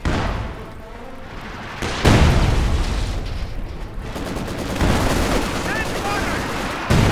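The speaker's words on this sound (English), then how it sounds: "This barrage coming on in, trying to hit this MG34, does get a good hit there." Artillery barrage in the strategy game Company of Heroes 2, with booming shell impacts and crackling gunfire in several loud bursts over a steady rumble of battle.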